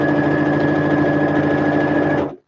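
A sewing machine stitches fabric with a steady, close mechanical whir and a fast even rhythm, running loud and unbroken for about two seconds before stopping abruptly.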